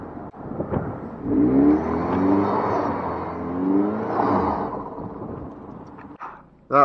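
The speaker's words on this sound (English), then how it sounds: "That's the cool part about driving a turbo in the snow. You can just get on it and get those cool turbo sounds." A turbocharged PT Cruiser revs hard while driving through snow, its engine climbing and falling in two long surges with a whooshing turbo whir, close and loud, ending in a sharp burst.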